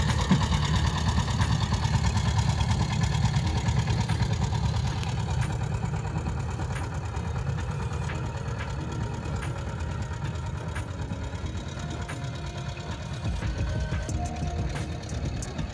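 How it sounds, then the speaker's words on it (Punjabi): A generator engine idles continuously with a low, even rumble and faint knocking, running alone close by with no voices. "ਜਨਰੇਟਰ ਸਟਾਰਟ ਕਰ ਲਿਆ"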